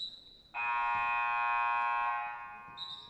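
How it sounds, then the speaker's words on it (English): Basketball game buzzer in a women's college gym, one loud sustained electronic blare lasting about one and a half seconds, then a fading tail. "that may have been an inadvertent whistle, buzzer right there"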